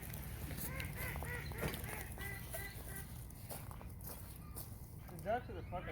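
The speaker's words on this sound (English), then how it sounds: "The ducks are the fucking worst." Ducks honk in scattered, mid-distance calls at an outdoor disc golf course, with a louder call near the end, over steady outdoor background noise and footsteps.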